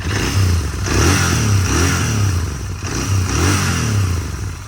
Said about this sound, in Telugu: సో డ్యూయల్ ఎగ్జాస్ట్ ఒకసారి రేవ్ చేసి కూడా చూద్దాం మనము ఎట్లా వస్తుంది